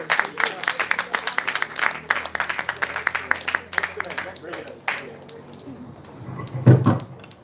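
Audience applause after a presentation at a climate resilience workshop: dense, steady clapping from a room of people for several seconds, thinning out toward the end, with a brief thump near the close.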